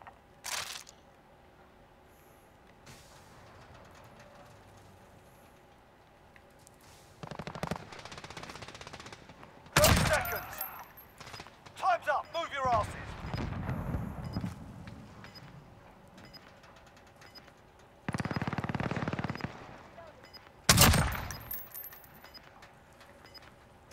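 Gunfire in a multiplayer shooter video game: scattered loud automatic bursts and single shots separated by quieter gaps, with one long sustained stretch of firing near the end.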